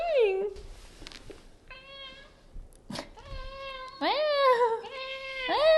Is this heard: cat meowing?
yes